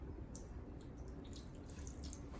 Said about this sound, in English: you're gonna take your clean filtered water and you're gonna add 183 grams